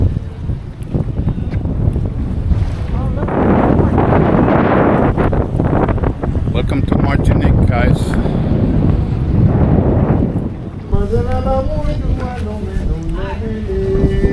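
Strong gusty wind buffets the microphone on a cruise ship pier in Martinique, loud and roaring, while a person speaks briefly over it.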